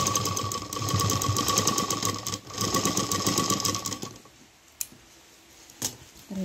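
A sewing machine runs in a steady close whir for about four seconds, double stitching a cloth bag for a dhol drum, then stops, leaving only faint handling clicks and a couple of short taps.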